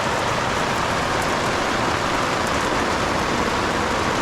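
Heavy rain pouring down at a mountain campsite on Mount Prau, a loud, dense, unbroken hiss of drops close by with no voices.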